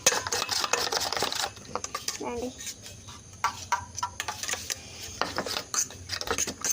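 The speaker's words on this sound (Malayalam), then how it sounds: "ഇനി നമുക്ക് ഇതിനകത്തോട്ട് കുറച്ച് നമുക്ക് ആവശ്യത്തിനുള്ള മുളക് ഇട്ടൊന്ന് ഇളക്കി കൊടുക്കാം." A spoon scrapes and rasps around a bowl as chili is stirred into an omelette egg mixture, with a steady run of small clinks and rubbing strokes while a voice talks over it.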